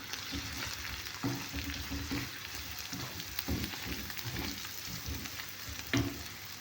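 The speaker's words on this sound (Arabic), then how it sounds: "هسه نضيف البهارات ونظل نحمس بيهم كل زين." Chicken breast and spices fry and sizzle steadily in a pan as a spoon stirs them, giving soft periodic scrapes over a constant hiss.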